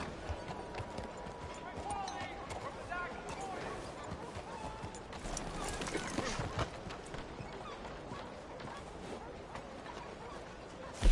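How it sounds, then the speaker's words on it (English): Horse hooves clip-clop in Red Dead Redemption 2, a steady clatter of footfalls under a busy town backdrop with talking voices, ending in a sharp louder knock. "What I wouldn't give for a horse like this."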